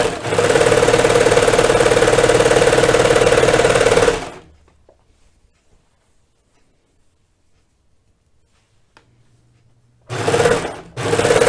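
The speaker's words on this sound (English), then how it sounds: "we're going to sew the short ends together" A sewing machine joins the short ends of sweater cuffs into loops, humming loudly and evenly for about four seconds, falling silent, then starting up again briefly near the end.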